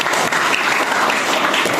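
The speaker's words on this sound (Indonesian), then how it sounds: "Tepuk tangan untuk kelasnya." A classroom of students claps for their class, steady dense applause filling the room from start to finish without pause.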